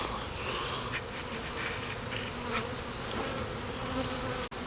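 A swarm of honey bees drones continuously during a honey harvest, a dense steady buzz filling the space at close range, with no voices.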